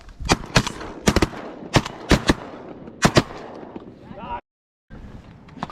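Shotguns firing during a Pennsylvania duck hunt, a quick series of loud close blasts in bursts, some nearly overlapping, followed by a brief silence and outdoor ambience.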